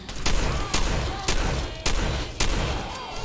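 A shotgun fires five times in Fallout 4, evenly spaced about half a second apart. Each blast is loud, close and sharp, and the space between shots is filled with rumbling game ambience.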